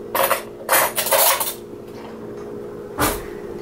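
A kitchen drawer rattles open and metal cutlery clinks as a spoon is picked out, with two quick bursts of jangling followed by a sharp closing clack.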